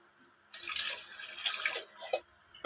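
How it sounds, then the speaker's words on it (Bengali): Milk is strained and poured into a vessel, a close liquid splash and trickle that starts after a brief quiet and runs on with small spattering bursts. "দুধটা ছেঁকে নেব, কারণ ছাঁকা হয়নি তো। ছেঁকে দিচ্ছি এই যে।"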